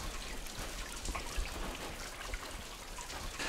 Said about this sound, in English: all around me is a sound of dripping.